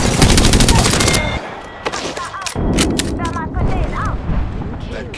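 Gunfire in the battle royale game Apex Legends Season 6, loud close bursts of rapid automatic shots, then pauses and more volleys with whizzing and ricochet-like chirps.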